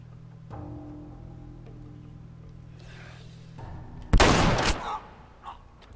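A single loud gunshot in The Last of Us Remastered, a sharp close blast with a brief rolling tail, over a quiet game background with low ambient hum.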